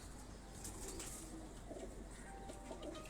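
Tonsi pigeons kept at a Lahore home coo softly amid steady background noise, with faint bird calls and occasional wing flutters but no clear talking.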